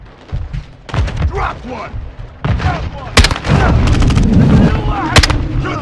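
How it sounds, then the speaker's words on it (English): Grenade blasts and rapid gunfire from a Call of Duty Modern Warfare 2 campaign battle on PS5, loud repeated booms and shot bursts spread through the clip, with soldiers shouting over the combat. "Incoming! Take cover! They're launching grenades!"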